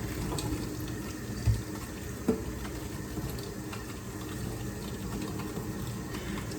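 Tap water running steadily into a sink while a metal dish is rinsed, a continuous close splash with a couple of brief knocks of the dish against the basin.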